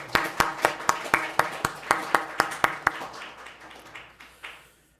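A congregation claps in steady, evenly spaced beats during a New Year thanksgiving Sunday church service, about a dozen sharp claps that thin out and fade toward the end.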